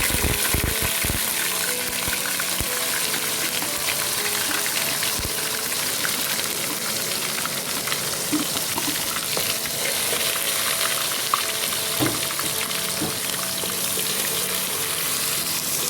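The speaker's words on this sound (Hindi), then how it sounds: "अब मैं इसमें 2 प्याज की पेस्ट डाल दूँगी।" Onion paste fries with spices in a pot for a mutton kebab curry, making a loud, continuous sizzle with wet bubbling and scraping from stirring. Spoon knocks come early, and nobody speaks.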